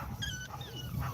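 Dogs outside a yard at a kennel breeding Americane da Presa dogs give faint whimpers and short yips, a few high, thin cries heard from a distance over low background rumble.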